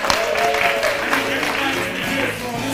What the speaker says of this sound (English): let's give a round of applause while we give our captains time for intermission